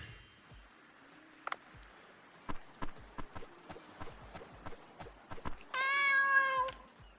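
A cat meows in the video game Dave the Diver, one clear drawn-out meow near the end, following quick game footsteps and clip-clop sounds.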